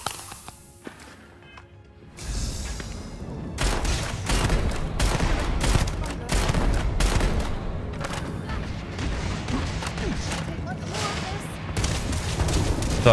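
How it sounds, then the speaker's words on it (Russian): Rapid bursts of gunfire in the video game Starfield crack and boom in irregular volleys, with a voice talking in Russian over the shooting. "С двух выстрелов просто замочили и все."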